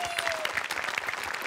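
An audience claps at a comedy show, a dense, steady patter of many hands filling the whole moment at moderate level.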